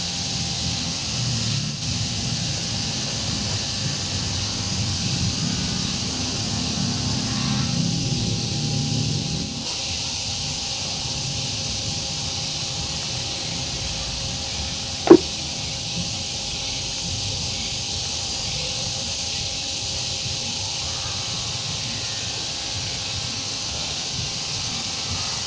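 A hand sprayer mists water onto wet bonsai cutting medium soaked by rain, producing a steady, long hiss that runs almost unbroken with a brief sharp click midway.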